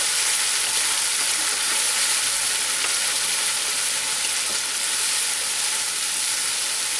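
Fish masala for katla macher kalia sautéing in a pan over a medium gas flame, a steady close broadband sizzle and hiss that holds evenly throughout with no talking.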